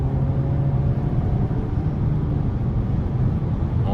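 A 2022 Volkswagen Arteon SEL R-Line with the 2.0T engine pulls under throttle in sport mode, heard from inside the cabin as a steady, fairly loud low engine drone with road rumble and no voices.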